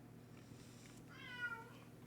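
A cat gives a single faint meow in a factory-building game, rising briefly over a quiet low hum.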